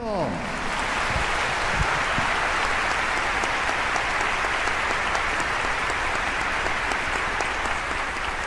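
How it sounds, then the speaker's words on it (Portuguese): A church Bible study audience in Bogotá breaks into loud, sustained applause welcoming Sister Maria Luísa, a dense wash of many hands clapping steadily from start to end with a brief voice at the very beginning. "vamos saudar nossa irmã Maria Luísa com um aplauso imenso"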